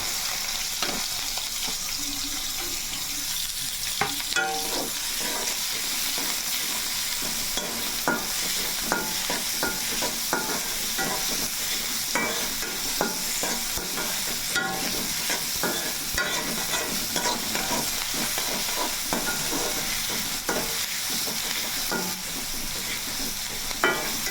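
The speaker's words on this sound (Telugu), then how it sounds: "ఇప్పుడైతే నూనె వేడెక్కింది కాబట్టి ఉల్లిపాయలు వేసేసుకుందాం" Onions drop into hot oil in a kadai and fry with a continuous loud crackling sizzle, broken by frequent scraping stirs of a spatula over the whole stretch.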